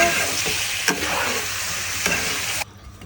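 Apple pieces dropped into Tengra fish broth frying in a pan, a dense close sizzle with a few spoon knocks, the sound cutting off abruptly near the end.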